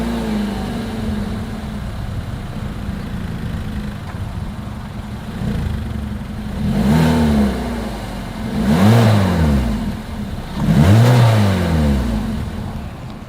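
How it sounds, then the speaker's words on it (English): A 2023 Hyundai Kona idles with a deep exhaust rumble, then revs three times in rising and falling surges, each louder than the last. "As always, here is that exhaust clip."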